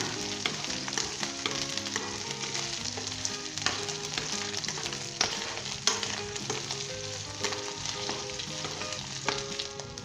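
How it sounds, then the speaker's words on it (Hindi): Mutton curry fries in hot oil for a Bengali-style gosht, a loud continuous sizzle with clattering stir strokes and spatter running throughout, no voices over it. "मैंने अच्छे तरीके से इसे फ्राई कर लिया है"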